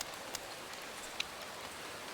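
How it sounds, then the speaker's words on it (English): Steady, faint rain hiss from a Motorsport Manager race, even and continuous with a couple of tiny ticks, no voices. "And it's raining"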